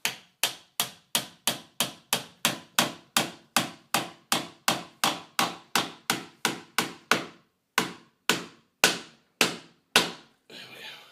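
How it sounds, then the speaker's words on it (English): A part being knocked into place with a hammer, about two dozen sharp, loud taps in a fast steady rhythm, then a few slower strikes spaced apart near the end. "check we're at the right angle there and knock into place"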